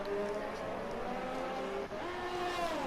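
Race cars in the F1 2018 video game battle side by side down a straight at Bahrain, their engines holding a steady, loud, high-revving whine, with one pitch dipping and climbing again midway.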